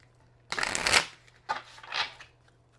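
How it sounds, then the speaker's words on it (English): Two quick riffle shuffles of a card deck, a loud flurry of flicking followed by a shorter softer one, up close with no talking. "Shuffle this one time."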